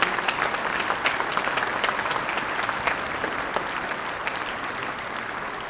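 Steady applause from a crowd at an Independence Day event, many hands clapping continuously at an even level, with no voices standing out.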